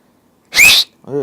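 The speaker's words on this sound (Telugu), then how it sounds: "విజిల్ వస్తుంది, కొట్టమంటావా?" A loud whistle blown by mouth rings out once, sharp and close, briefly followed by a short voiced sound.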